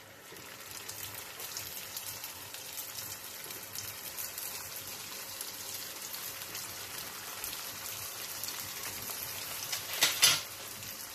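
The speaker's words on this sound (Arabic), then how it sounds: "من بعد ما قليت الرغيفات ديالي" Rghaif pastries fry in hot oil with a steady, close crackling sizzle that holds throughout, building to a brief louder spatter near the end, with no talking.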